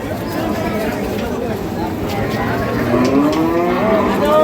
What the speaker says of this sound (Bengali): দেখছিলাম আমরা আজকে যে ষাঁড় গরুগুলো রয়েছে সেই গরুগুলোকে